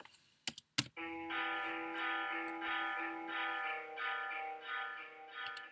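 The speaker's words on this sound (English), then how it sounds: "So if we solo and listen to that reverb" A few sharp clicks, then a sustained tonal sound with a washy, spacious reverb tail that swells and fades in slow waves.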